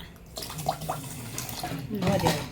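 Water poured into sugar in a cooking pan to make syrup for bread gulab jamun, a steady splashing pour with a soft gurgle at close range and faint voices behind it.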